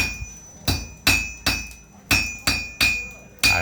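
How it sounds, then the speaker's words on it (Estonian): A blacksmith hammers steel on an anvil to forge a nail, about seven sharp ringing blows landing in a steady, slightly uneven rhythm, loud and close, each blow leaving a brief metallic ring. "Niimoodi tehakse naela. Alustasin siis naela terast."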